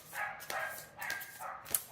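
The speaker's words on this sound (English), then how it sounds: "immediately we have some dogs barking outside" Several dogs bark outside a quiet room, a string of muffled, moderately distant barks and yips arriving every half second or so, with no talking.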